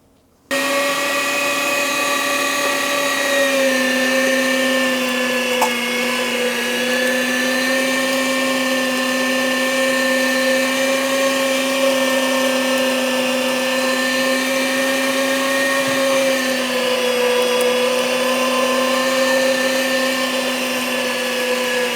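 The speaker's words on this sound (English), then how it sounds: "let's start grinding our meat" A meat grinder minces turkey meat with a steady, loud motor whine that holds an even pitch for over twenty seconds, starting abruptly after a brief silence, with only slight wavers in tone and no voices.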